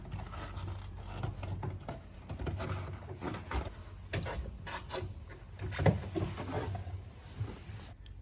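A handbrake gaiter is slid up over a car handbrake during a trim removal job. Close, quiet scraping and rubbing sounds come in short irregular bursts, with no talking.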